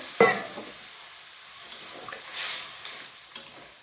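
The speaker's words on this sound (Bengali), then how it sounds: "এবার আমি জল দিয়ে দেবো পরিমাণ মতো।" Sautéed vegetables for a fish curry hiss and sizzle in a pan as water goes in, with short scraping stirs and a brief louder burst of steam midway, close and otherwise quiet.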